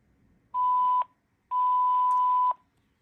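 Two steady electronic prompt beeps from a Panasonic KX-TG9344 cordless phone answering machine, a short tone followed by a longer one, clear and close with quiet pauses around them.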